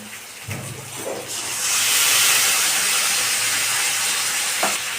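Ginger, garlic, cumin, green chilli and tomato paste hit a hot pan while cooking a katla fish curry, bursting into a loud, sustained hissing sizzle after a few soft clatters.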